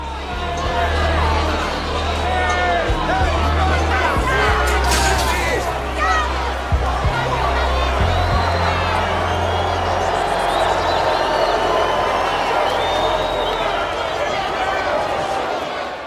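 Hostile arena crowd roaring steadily throughout a Rocky IV fight entrance, a dense continuous wall of cheering and babble with low rumbling underneath.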